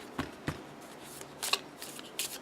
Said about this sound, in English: let me try to shuffle it